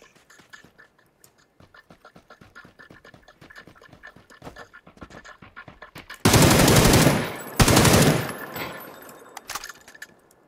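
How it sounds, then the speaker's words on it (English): PUBG gunfire arrives as rapid cracks and clicks, then two long, loud bursts of sustained automatic fire up close, dropping back to sparse sharp reports. "Someone shooting?"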